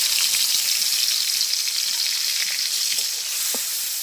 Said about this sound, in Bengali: তো আমার তেলটা গরম হয়ে গেছে, আমি এখন চিংড়ি মাছটা দিয়ে দিই।